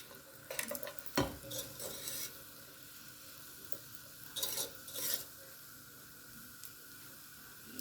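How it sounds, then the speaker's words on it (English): Vegetables, seasonings and spices being stirred in a pan for Guyanese-style shrimp fried rice: a few scraping utensil strokes over a soft, steady sizzle, with quiet gaps between the stirs. "We're giving it a good stir."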